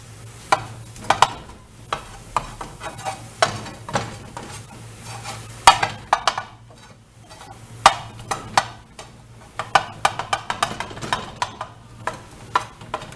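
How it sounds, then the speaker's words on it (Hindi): Mutton organ meat is mixed and crushed with salt and spices, Bakra Eid street-food style, producing repeated close wet slaps and utensil knocks in an uneven rhythm, with no talk. "अब हम इन सारी चीज़ों को अच्छी तरह से मिक्स करते जाएंगे।"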